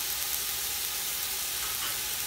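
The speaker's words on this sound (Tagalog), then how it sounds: "Habang ina-inister natin ang ating mga sibuyas" Onions sauté in a pan for sinigang na isda, giving a steady, even sizzle that stays close and constant throughout, with no voices.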